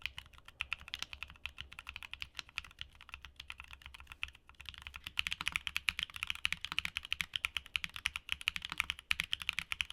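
Stock Akko mechanical keyboard switches typed on in a steady, fast run of crisp, close clacks with no voices.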